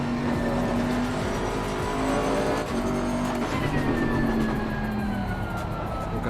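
In the Assetto Corsa racing game, a Bentley GTC's engine drones and revs around the Hungaroring with gear changes and faint tyre squeal, a continuous loud motor tone with no talking.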